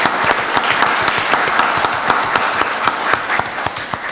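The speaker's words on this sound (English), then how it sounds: "So y'all give Pastor Thomas a round of applause" A crowd at a county board of commissioners meeting applauds with dense, steady clapping throughout, fairly loud and close.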